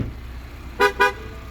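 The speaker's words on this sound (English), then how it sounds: "The car will honk to let you know that the key has exited the interior without, or with the engine still running." Two short, sharp honks from a 2022 Ford Explorer XLT horn, sounding when the key leaves the cabin, close and loud, a quick double toot over a quiet background.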